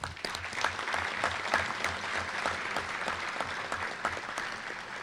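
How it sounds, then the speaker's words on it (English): Quiet, distant applause fills a banquet hall at a sports hall of fame induction, steady scattered clapping with occasional sharper claps standing out. "Would you kindly join with me in giving these folks a round of applause?"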